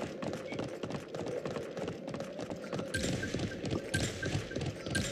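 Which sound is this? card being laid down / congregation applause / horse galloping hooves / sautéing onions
horse galloping hooves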